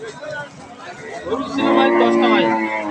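Cattle mooing loudly nearby at a cattle market selling Holstein Friesian cows, a long low bellow rising over a murmuring crowd of voices and chatter.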